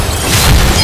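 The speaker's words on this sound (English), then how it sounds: "Your team destroyed a turret." A turret in the Mobile Legends video game blows up with a short, deep boom that swells briefly and fades, heard alone and fairly loud.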